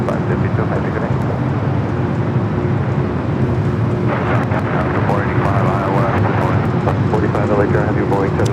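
A jet airliner taking off from runway 24 left at Los Angeles International Airport, a steady, loud, broadband engine roar that holds throughout and builds slightly in the second half, with faint radio chatter underneath.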